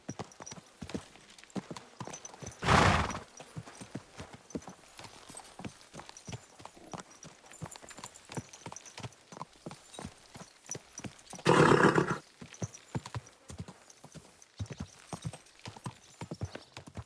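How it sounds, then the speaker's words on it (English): Horse hooves clip-clop steadily in Kingdom Come Deliverance II, a brisk, even rhythm of hoofbeats with two loud, rough bursts like a horse's snort or whinny breaking through. "Easy, good horse."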